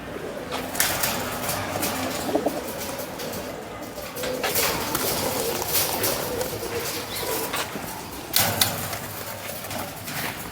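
Racing pigeons coo softly amid a busy loft, with intermittent rustles and clatters and someone talking at times over the birds.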